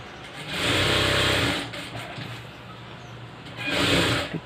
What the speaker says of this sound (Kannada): ಸ್ಟಿಚಿಂಗ್ ಹಾಕೊಳ್ಳೋಣ.